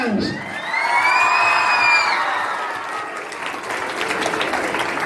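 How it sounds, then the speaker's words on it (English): Students applauding at a school Teachers Day gathering, a burst of dense clapping with a shrill whoop and cheering over it, fading into lighter continued claps. "Now many will clap hands."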